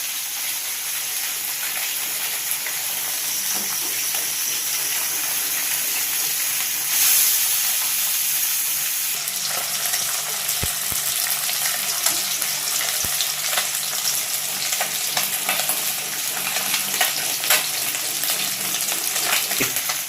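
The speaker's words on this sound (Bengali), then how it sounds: "মাছগুলো সুন্দর করে ভেজে নিই, মাছগুলোকে ভেঙে না যায়।" Bele fish fry in a pan of hot oil, a continuous close sizzling hiss with scattered pops and crackles, steady throughout with occasional light clinks.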